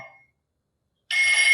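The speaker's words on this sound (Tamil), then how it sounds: "Ringing of a telephone. Ringing of a telephone." A bright, buzzing bell ring bursts in after a near-silent pause and continues loud and steady to the end, like an old telephone ringing.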